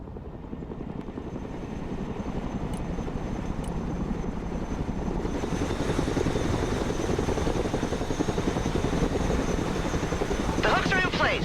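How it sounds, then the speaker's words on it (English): Chinook cargo helicopter flying in the video game Broken Arrow, a steady rotor thump and engine drone that builds gradually and stays loud throughout, with a brief high whir near the end. "Let's go and recover it with our helicopter."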